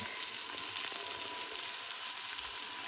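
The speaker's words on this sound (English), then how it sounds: "Fry it up nicely. Let me show you how beautiful this is." Onion fries in ghee with a steady, faint, even sizzle, a constant crackling hiss with no breaks or talk.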